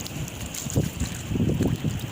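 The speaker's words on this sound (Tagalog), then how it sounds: "medyo sumisimoy na naman yung yung hangin habagat." Southwest monsoon wind, the habagat, blows at sea over a small crab-fishing boat at night, rumbling in gusts against the microphone with a steady hiss of moving air.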